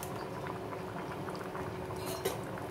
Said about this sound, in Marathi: आणि हे मिक्स करायचं आणि हे थोडंसं आता उकळून द्यायचं